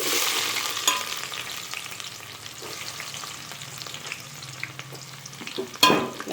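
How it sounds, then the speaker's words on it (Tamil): Onions sautéing in a pan where fenugreek seeds were just fried for a Chettinad crab gravy, giving a steady close sizzle with scattered stirring clicks and a louder scrape near the end. "வெங்காயம் கொஞ்சம் வதங்கட்டும்"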